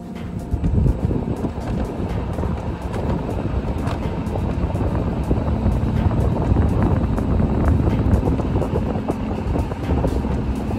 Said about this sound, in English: As you can see, it emits nice electric noise. It's an electric motor.